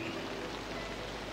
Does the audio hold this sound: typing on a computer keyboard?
no